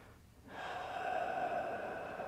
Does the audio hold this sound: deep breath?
yes